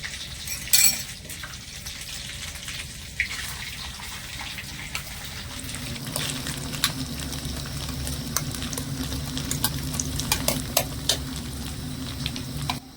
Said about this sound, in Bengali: এবার আমি যে মিক্সির মধ্যে সয়াবিনটা ঘুরিয়ে রেখেছিলাম এবারে সয়াবিনটা দিয়ে ভেজে নেবো